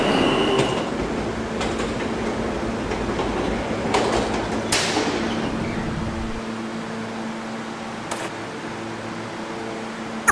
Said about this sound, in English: It is a Rentar Plaza-bound D train.